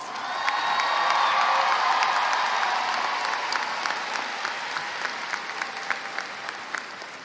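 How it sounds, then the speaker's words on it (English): A crowd at the Cypress Lakes High School class of 2022 commencement ceremony breaks into loud applause for the graduates, with cheers and whoops mixed in. It swells early, then holds and slowly thins, sharp individual claps standing out near the end. "Let's give our graduates a round of applause."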